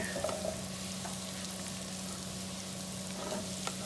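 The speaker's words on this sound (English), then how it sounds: "we're going to stir those around in the butter" Mushrooms frying in butter and garlic for a garlic mushroom pasta, a steady close sizzle running throughout with a few soft scrapes from a spoon stirring them around the pan; no talking.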